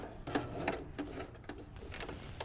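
A sewing machine runs a few quick back stitches on a hem, a soft rhythmic series of mechanical ticks and thumps, close and fairly quiet with no talk.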